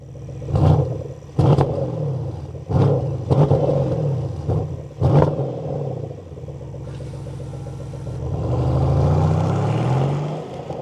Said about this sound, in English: what's the sound here of the V8?